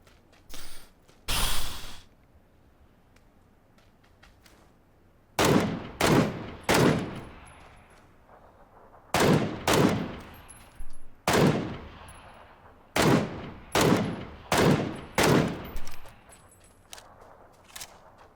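Mark 14 rifle fire in PUBG, loud sharp single shots and quick bursts of two to four spaced across the stretch, each with a fading tail, over quiet gaps and no talk.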